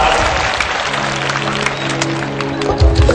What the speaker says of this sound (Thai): ขอเสียงปรบมือ ให้กับตัวแทนของเทศบาลตำบลนาจอมเทียนอีกครั้งหนึ่งครับ